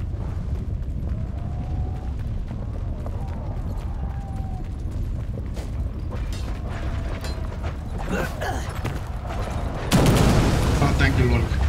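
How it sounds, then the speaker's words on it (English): Mangonel catapults fire during a siege battle in the Persistent Empires video game, with creaking wooden mechanisms and heavy thuds over a constant rumble of battle noise, ending in a sudden loud crash. "there are mangonel shots"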